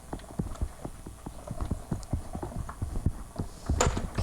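A hand-cranked die cutting machine rolling a number 3 standard cutting plate through, giving a close, regular series of low clunks and knocks like steady ratcheting, with a brief louder rattle near the end.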